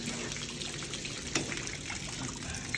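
Water drains steadily from a dairy drain, a continuous trickling gush with one brief splash, at moderate distance and fairly quiet, no one speaking.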